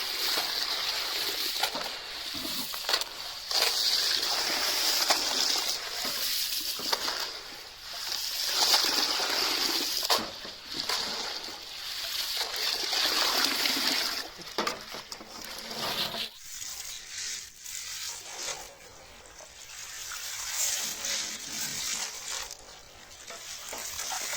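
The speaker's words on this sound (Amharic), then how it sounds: "ከዛ ውሃችንን አድርገን ሽሮአችንን እናጥባለን።" Shiro legumes being washed in water at an Ethiopian grain mill, with continuous splashing and swishing of water and grains close by, steady throughout with no speech.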